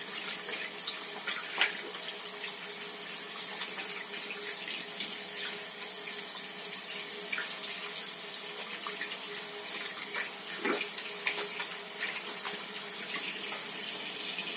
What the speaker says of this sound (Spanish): Enjuagamos las manos en abundante agua aproximadamente durante 8 segundos.